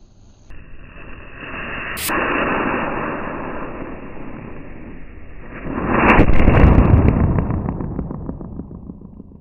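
Homemade matchstick bullet bomb firecrackers going off outdoors: a sharp crack near two seconds, then a louder, longer burst of crackling and roaring bangs around six seconds, with a hissing, noisy wash in between.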